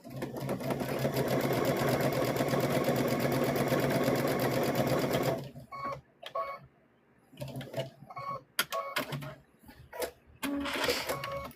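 Sewing machine stitching fabric for a stuffed bear, a steady, dense mechanical whir for about five seconds, then stopping, followed by scattered handling clicks and short fabric rustles.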